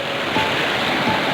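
River water rushes steadily from far upstream, a continuous broadband wash with slight surges, close and fairly loud with no voices.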